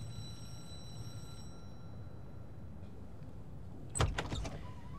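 A doorbell rings at a villa: a brief, bright chiming ring cuts in near the end over a quiet, hissy outdoor background.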